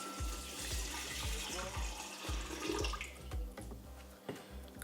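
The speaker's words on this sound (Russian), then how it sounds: "Приливаем дистиллированную воду" Distilled water is poured onto magnetic material in a vessel, a continuous splashing, gurgling stream with rhythmic low glugs, close and steady throughout.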